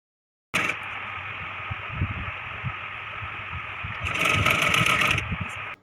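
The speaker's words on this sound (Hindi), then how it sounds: "इस तरह से फ़ोल्ड करते हुए एक सिलाई और लगा लेंगे।" A sewing machine runs steadily, stitching a folded seam on a Rajputi suit kanchali; the whirring motor stays close and continuous, growing louder and faster near the end, with no talk over it.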